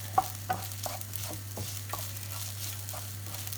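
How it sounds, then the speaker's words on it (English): Chicken curry ingredients for a Chinese chicken curry frying in a pan, a faint soft sizzle broken by a handful of distinct spatula taps and scrapes at an uneven pace, no talking. "Keep frying this off."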